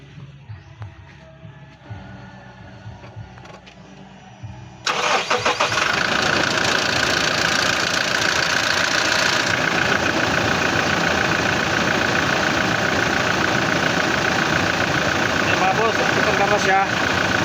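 A quiet stretch with faint clicks, then a car engine cranks and catches after a fuel filter change, settling into a loud, steady idle that rumbles on without stopping.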